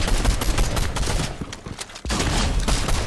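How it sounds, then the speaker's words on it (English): Rapid gunfire from a lever action shotgun in Fortnite, a dense burst of loud blasts with a brief dip near the end before the shots resume. "They ran into my lever action shotgun."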